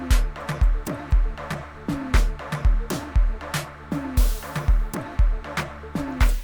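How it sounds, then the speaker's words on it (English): Synth pluck sitting in the background of a Durban gqom track, repeating short notes under a busy groove of punchy, pitch-dropping log drums and crisp percussion hits, steady and moderately loud without any voices. "From there on, we just had this pluck."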